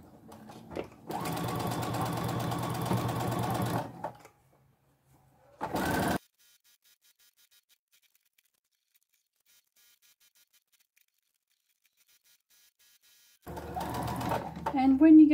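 A sewing machine stitches a dish towel with cotton tape in close, loud runs: one long burst of rapid mechanical whirring, a short pause, a brief burst, a long silence, then stitching starts again.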